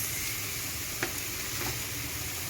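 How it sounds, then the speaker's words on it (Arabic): Food sizzling steadily in a frying pan while being stirred, with soft scraping strokes standing out over the constant hiss of hot oil, fairly quiet and close. "ونديله تقليبة كده زي ما انتم شايفين لحد ما لونه يبقى ذهبي"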